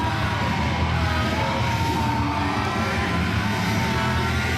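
A wrestling crowd in Union cheers in a sustained roar of yells and whoops, a loud, dense wash of voices filling the hall without pause.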